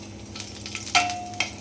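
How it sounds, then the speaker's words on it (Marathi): Green chilies dropped into hot oil for a seasonal chutney, crackling and sizzling in a steady close-up fry with a few sharp spits and pops, no voices. "तेल जरासं तापलं की आपण याच्यामध्ये मिरच्या घालणार आहोत."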